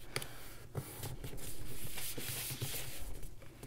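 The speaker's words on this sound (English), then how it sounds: "Just going to burnish that a little bit so it sticks nice and good." A folded paper gift card wallet made on a gift bag punch board is burnished by hand, giving soft, close rubbing strokes in quick repeated passes at low volume, with no talking.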